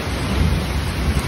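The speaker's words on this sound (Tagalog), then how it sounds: "Grabe yung ulan, oh." Heavy sudden downpour with rumbling thunder, a loud, dense roar of rain and low rolling thunder filling the whole short stretch, close and steady, without voices.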